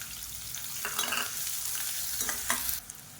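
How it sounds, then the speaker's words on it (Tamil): Chopped onions fry and sizzle in hot oil with mustard seeds and curry leaves, a steady close crackle broken by a few stirring scrapes, with no voices. "இப்போ இதில் பொடியாக நறுக்கின வெங்காயம் சேர்த்துக்கலாம்."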